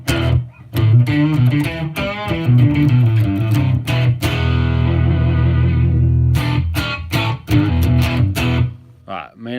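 Electric guitar chords through a Headrush amp-modeller reverb ring out with a spacious reverb tail, strummed in bursts with lingering sustain between attacks, loud and close.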